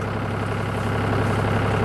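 A tractor engine runs at a steady low idle, a continuous close rumble with no breaks, while it works at moving a white oak log across a big ditch.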